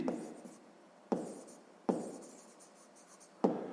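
A pen writing the short condition of a sixth-grade maths word problem on paper in a quiet room: four close, separate scratchy strokes, each starting sharply and fading away.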